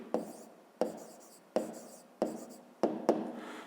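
Pen strokes writing numbers by hand, likely on paper during a grade 5 maths exercise: five or six crisp, close taps and scratches spaced roughly evenly, each fading quickly, with no talking.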